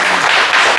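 An audience at a Korean launch ceremony for a film production claps warmly in a dense, steady burst of applause throughout the short moment.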